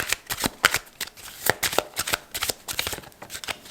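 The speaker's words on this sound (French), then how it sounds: "je vais tirer 4 cartes" Tarot cards being shuffled and drawn make a close, rapid series of papery riffles and slaps that go on steadily with no voices.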